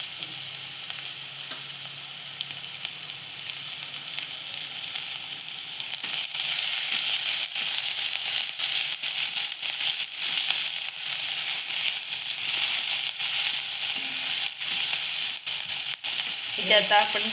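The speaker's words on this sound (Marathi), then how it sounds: "इथे आता आपण कांदा आणि टोमॅटो सोबत परतवून घेतोय." Onion and tomato sauté in a hot pan, a loud, continuous sizzle and crackle that grows stronger midway, with occasional scrapes of a stirring spoon.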